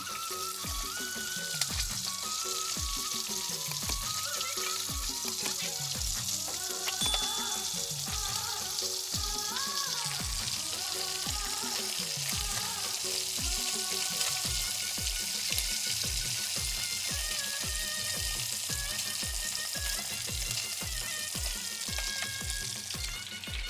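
Food fries in a pan on a gas stove with a constant hissing sizzle and rhythmic scrapes of a ladle stirring it, steady and close throughout, with no speech.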